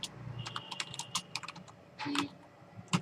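Code being typed on a computer keyboard, a quick close run of crisp key clicks in uneven bursts with a short pause and a louder cluster near the end.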